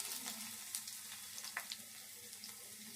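Dried red chillies and crushed garlic frying in a pan with curry leaves and turmeric, a steady close hiss of sizzling oil with small crackles and pops throughout and no talking.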